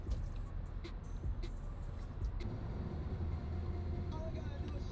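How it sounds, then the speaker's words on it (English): A supercar's engine drones while driving, a steady low rumble of road and motor noise running throughout with a few faint higher clicks and knocks on top. "The noise this car makes is such a head turner"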